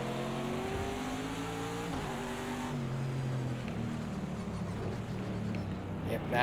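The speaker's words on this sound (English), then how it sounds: "Ooh, got one of the Cadillacs out here racing." A Cadillac GTD race car engine in the Project Cars racing game drones steadily at moderate volume, its pitch rising and falling with shifts and throttle changes as it runs continuously.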